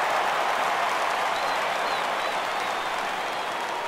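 A baseball crowd at a Marlins at Phillies game rises, cheering and applauding for a full count, a dense, loud, continuous roar of clapping and voices with no break.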